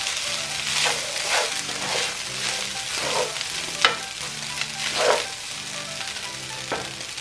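Chicken and shrimp hibachi sizzles loudly in a pan as it is stirred together with onion, with steady frying hiss and scraping clicks from the utensil, close up and without talk.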